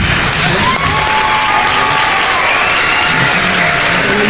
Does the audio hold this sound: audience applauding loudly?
yes